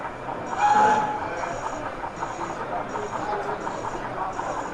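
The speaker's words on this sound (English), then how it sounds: "And the loco's back moving, so we'll just follow it back along the track here" A model railway locomotive runs along its layout track at a club exhibition, a soft continuous rolling hum with faint clicks, heard beneath a murmur of crowd chatter in a busy hall.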